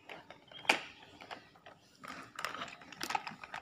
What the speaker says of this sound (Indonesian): Baterainya sudah kita tutup, yang ini kita tutup, tutup,